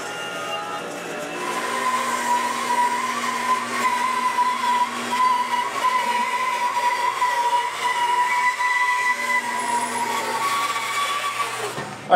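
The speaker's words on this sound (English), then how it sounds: "they just went through the jointer, and now they both have two flat sides" A jointer flattens wooden guitar neck blanks in a workshop, a loud continuous machine roar with a steady whining tone lasting about twelve seconds, with no talking over it.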